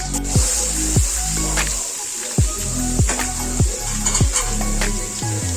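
Beetroot with curry leaves and chilli frying in a pan: a steady hiss of hot oil with a regular series of soft thumps and scrapes as the mixture is stirred, heard close up with no talk.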